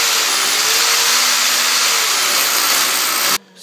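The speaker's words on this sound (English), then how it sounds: "We're using a vacuum cleaner, so when we drill, the rubbish won't go on the floor, it will go inside the vacuum cleaner." Loud, steady roar of a vacuum cleaner held close to a wall to catch dust while holes are drilled for mounting a fan, running continuously before cutting off abruptly near the end.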